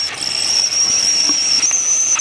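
A steady, loud hiss of steam escaping from a boiling rocket stove kettle with a thin high whistle tone running through it, continuous and close.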